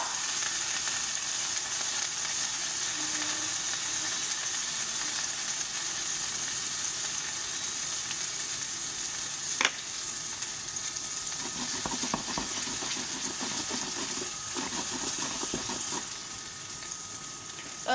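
Meat frying hard in a pan, a loud steady sizzle with crackling spatter and occasional sharp pops, continuous throughout with a brief clatter partway through.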